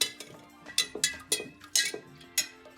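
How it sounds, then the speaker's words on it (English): A spoon stirs hot, sweetened green tea in a kombucha fermenting vessel, giving quiet, bright clinks that ring briefly and repeat roughly twice a second, with no talking. "All the tea's been added, I'm going to stir it up."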